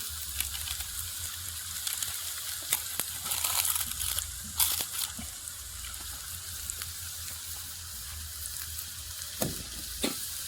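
Onions fry in a pan with chili powder stirred in, giving a constant close sizzle with scraping stir strokes and occasional crackles layered over it.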